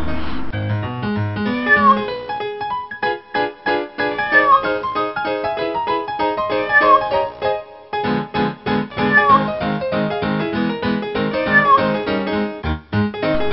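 A cat meows repeatedly in a steady series of clear, close, tonal calls, with no other sounds around them.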